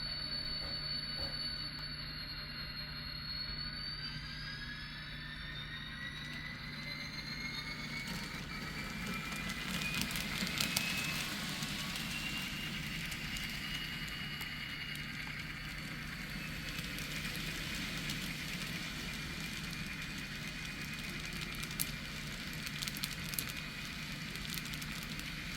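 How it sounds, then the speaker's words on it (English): Illinois Central Gulf freight train rolling near Granite City Steel and Wood River, a steady low rumble with drawn-out wheel squeals and occasional metallic clanks, moderately distant and continuous. "The train's been given permission by the dispatcher to continue to proceed to Wan Yard."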